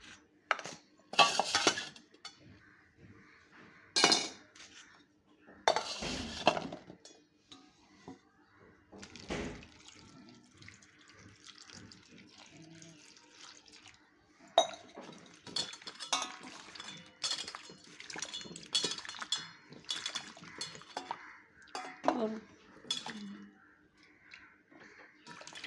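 Cut raw mangoes washed in water in a kitchen vessel, with sloshing water, splashes and clinking of pieces against the pot in irregular bursts over about half a minute, close and moderately quiet.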